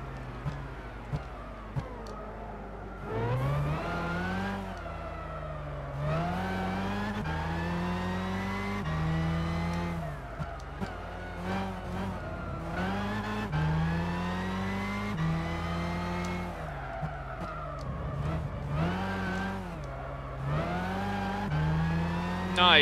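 A Super GT500 race car engine in Gran Turismo 6 screams through a lap, loud and close, its pitch repeatedly climbing through each gear and dropping at quick shifts, with no voices over it.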